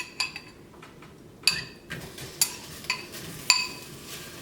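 Shrimp going into a heated earthen clay pot for a homestyle shrimp curry: several sharp metallic clinks and taps of a utensil against the pot, spaced irregularly over a low, faint background rustle.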